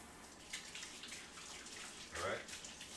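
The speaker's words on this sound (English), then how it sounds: "Let me wash my hands." Water runs faintly from a tap for hand washing in a home kitchen after burger making, a soft steady trickle with a brief louder splash near the end.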